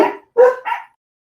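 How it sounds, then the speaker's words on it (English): Household dogs barking close and loud, three sharp barks in quick succession, then silence, with no talking. "These dogs, I tell you."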